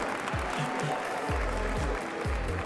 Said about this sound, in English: maybe a little noise from the crowd will help wake you up